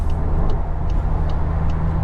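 Steady low road and engine rumble inside a Volkswagen Golf GTI Mk 8 cruising at highway speed, a loud continuous drone with faint periodic ticks above it and no talking.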